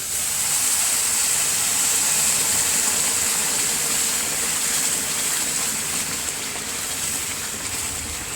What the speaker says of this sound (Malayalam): തിളച്ച വെള്ളം ഉണ്ട്, ഇത് ഒഴിച്ചു കൊടുക്കാം